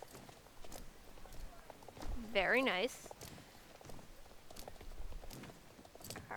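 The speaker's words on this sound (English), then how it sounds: "here is the in-hand gallop, which I think looks excellent" Horse hooves in the Star Stable video game during an in-hand gallop, a steady soft clip-clop under a speaking voice, with a brief rising, wavering horse-like cry midway.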